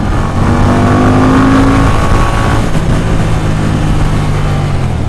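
A Victory Octane motorcycle engine revs hard at around 5,200 RPM on a demo ride, a loud continuous drone with rising pitch and heavy wind rush throughout.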